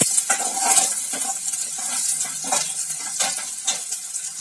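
Small shallots fry in oil for a snake gourd stir-fry, a close crackling sizzle broken by repeated scraping stirs and light clinks of a spoon against the pan; no talking.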